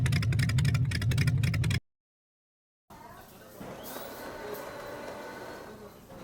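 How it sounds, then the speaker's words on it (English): Motorcycle pulling up to a cafe, as a sound effect: after a short dense burst of other sound and a brief silence, an engine rumble enters and grows slightly louder as it approaches. "It sounds like a motorcycle pulling up to a cafe."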